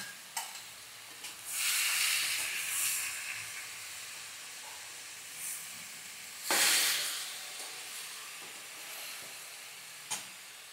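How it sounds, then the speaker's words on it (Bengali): Banana stem curry, village style, is stirred in a hot pan while its water cooks off, giving a soft steady hiss with swelling bursts of steamy sizzle and occasional spatula taps, close and quiet. "ততক্ষণ পর্যন্ত নাড়তে হবে যতক্ষণ না এই জলটা না শুকাচ্ছে।"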